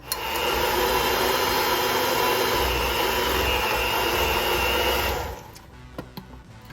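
An electric mixer beats two sticks of butter for a sour cream chocolate chip walnut coffee cake, a loud steady whirring drone that runs for about five seconds and then stops, followed by a few faint clicks.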